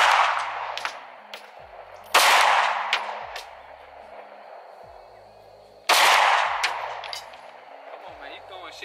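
Two loud Glock pistol shots fired at a 100-yard target, each a sharp crack with a long rolling echo decaying over a few seconds, spaced about four seconds apart outdoors, with no talking.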